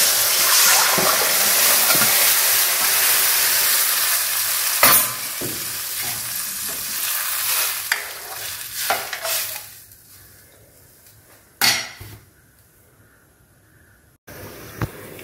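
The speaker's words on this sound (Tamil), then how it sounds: "குழம்பு நல்லா கொதிச்சிருச்சு" A village-style fish curry with tamarind water bubbling in a pot, a loud continuous hiss and sizzle that slowly dies down, broken by a few sharp clatters of the pot or spoon.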